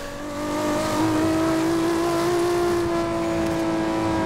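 A heavily tuned 1500 HP Toyota Supra MK4 accelerates hard in Forza Horizon 2, its engine note rising into a loud, sustained high-pitched whine that climbs and holds steady, with no talking.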